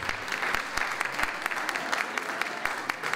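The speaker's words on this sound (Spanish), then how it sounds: "Con esta ovación fueron recibidos los miembros de la rondalla San Pau y su coro" A retirees' association audience gives an ovation to the Sant Pau rondalla and its choir, brisk steady clapping with a few sharper claps standing out, close and continuous.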